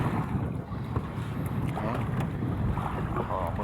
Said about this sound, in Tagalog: May hangin-hangin.